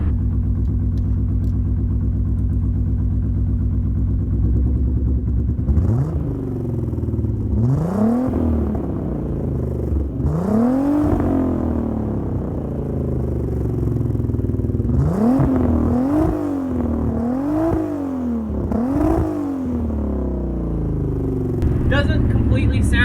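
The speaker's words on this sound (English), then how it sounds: "this car is running a 3-inch exhaust system with the turbo all the way back with a single Borla muffler at the rear of it" A VW Rabbit GTI with a turbocharged VR6, short runners, ITBs and a 3-inch turbo-back exhaust with a single Borla muffler, idling rough and then revving hard in a series of rising and falling blips, loud and close.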